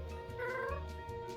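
Cat meows from a video game, a short tonal mew over a steady electronic background hum, fairly close and alone without talk.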